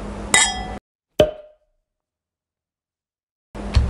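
Wine glasses clink in a birthday toast, one bright ring followed by a second sharp tap that decays quickly, with brief gaps of silence between the sounds.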